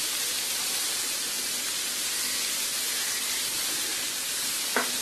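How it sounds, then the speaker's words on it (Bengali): Red and green capsicum fry in oil, giving a steady, even sizzling hiss throughout, with one brief tap of a utensil near the end. "এগুলি আমি 2 মিনিটের মতো এই তেলের মধ্যে একটু ভেজে নেব।"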